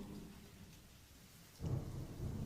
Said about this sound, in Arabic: حتى لواحد الليلة كانت عاصفة. الشتا خيط من السما والريح فيها كيصفر بحال الديب الجيعان.